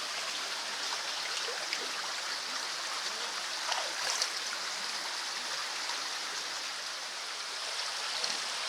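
River water flowing in Tanjay, Negros Oriental, Philippines, a steady broadband rush with light splashy detail, even and continuous, moderately close with no talking.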